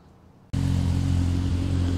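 A Barra car engine breathing through a 3.5-inch exhaust with a Varex muffler starts abruptly after half a second of quiet, then holds a loud, close, steady deep rumble.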